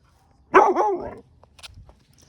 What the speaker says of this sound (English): So if she barks, I'm going to create space from the thing that she's barking at.